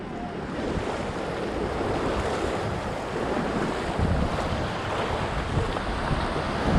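Steady rushing river water with wind buffeting the microphone while a raft is paddled on a river at Rishikesh, a continuous broadband wash with no talk.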